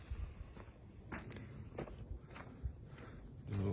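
Footsteps along a trail at Cane Creek State Park during rainy camping weather, an irregular series of soft crunching steps close to the microphone, fairly quiet with no talk.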